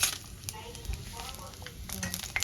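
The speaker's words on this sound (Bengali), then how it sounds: "ফোড়নটা আমি হালকা ভেজে নেব" Dry red chillies, whole cumin and bay leaf frying in oil over caramelised sugar, a faint continuous sizzle with scattered small crackles and pops, close and fairly quiet.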